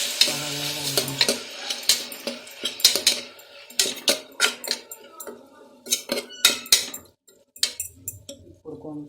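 Tomato pieces frying in a pan for a curry with chole, potato and meal maker, with a steady sizzle broken by repeated sharp scraping and clinking strokes of a spoon stirring, close and fairly loud.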